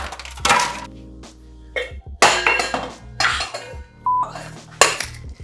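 A cocktail shaker rattles with ice in several short, sharp bursts of clinking and jangling, separated by brief pauses, close and fairly loud with no talking.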